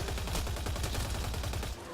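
Sustained rapid gunfire in the video game Mass Effect Andromeda, a dense continuous burst of shots that fills the whole stretch loudly before easing off at the end.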